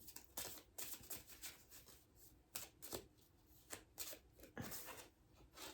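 A deck of cards is shuffled up close in quiet, repeated papery bursts of riffling and sliding with short pauses between. The shuffling stands alone, with no voices.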